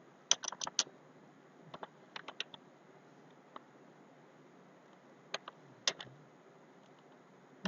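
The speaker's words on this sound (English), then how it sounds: "So I will type" Typing on a computer keyboard in short bursts of quiet clicks separated by pauses, with no voices.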